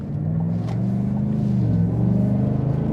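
A 2025 Chevy Silverado's 6.2-liter V8 pulls hard under acceleration, a deep, steady engine growl that rises slightly and stays loud and close, with cabin road rumble beneath.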